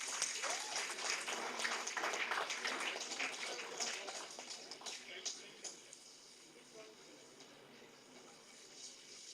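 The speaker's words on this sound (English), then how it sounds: "Give a huge round of applause" Applause from an audience at a college business event honoring research prize winners, strongest at first and thinning into scattered claps and crowd noise toward the end.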